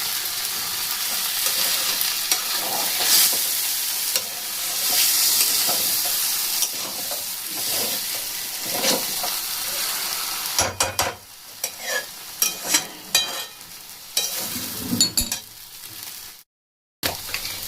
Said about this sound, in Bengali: এখন আমি ভালো করে কষিয়ে দেব কষিয়ে বলতে কি মিশিয়ে নেবো